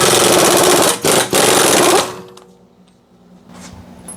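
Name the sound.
removing 32mm axle nut on Lincoln MKX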